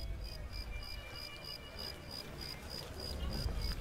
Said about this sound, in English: Why is there a cricket chirping noise in the casino?